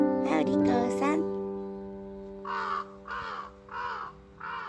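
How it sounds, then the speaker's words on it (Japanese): A crow caws four times in a steady rhythm from fairly close by, loud and clear outdoors, after a short stretch of someone talking at the start. "カラスさん飛んでいっちゃった"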